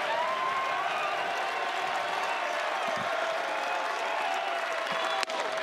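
A stadium crowd at an NCAA college baseball championship game in Chapel Hill keeps up loud, continuous clapping and cheering, a dense roar with whistles, and a broadcast commentator talking over it.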